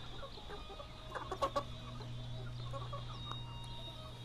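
Gauloise hens and a rooster clucking, with scattered short clucks and brief calls over a steady low background hum, fairly faint and at a moderate distance.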